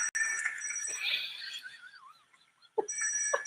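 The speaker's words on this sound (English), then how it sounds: "That would be the phone, Reg." A telephone rings with high electronic warbling tones, a short burst, then a pause, then the ringing resumes, moderately loud in a quiet room.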